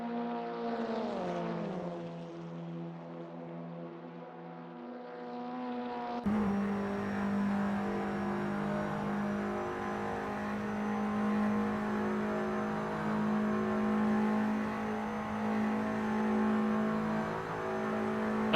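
TCR touring car engine lapping Spa-Francorchamps in a sim racing game, a steady harmonic drone that shifts pitch around a gear change, then holds loud and continuous under sustained acceleration with no talk.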